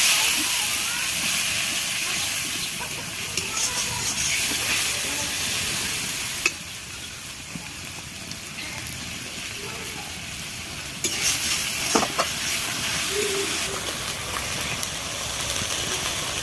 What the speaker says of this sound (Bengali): একটু ভেজে নিতে হবে এটাকে, মশলাটাকে একটু কষে নিতে হবে